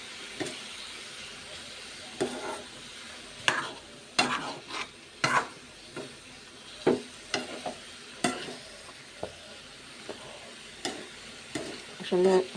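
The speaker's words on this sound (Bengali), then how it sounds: "সর্ষে আলু দিয়ে ভাজা করতেছে।" Potatoes and vegetables with mustard frying in a pan, with repeated sharp scraping and clattering stirs over a steady low sizzle, close and moderately loud.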